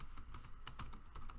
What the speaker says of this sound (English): by typing in data square brackets